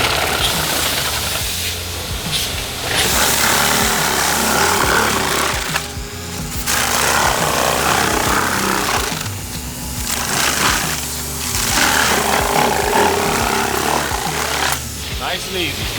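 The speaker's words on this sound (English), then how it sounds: "I always let the saw do the cutting" A Super Shear foam saw trims a 9.5-foot foam wall at about half throttle, a loud, continuous buzzing rasp with brief dips in intensity as the blade moves along, and someone talking over it.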